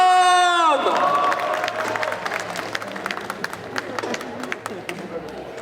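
An audience at a cosplay contest during an otaku festival applauds and cheers a cosplayer, with steady clapping and scattered shouts following a loud voice over the speakers.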